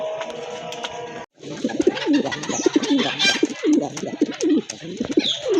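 A male fancy pigeon, deep red in colour, coos loudly and repeatedly in close, rhythmic bursts, with faint bird chatter behind and no speech.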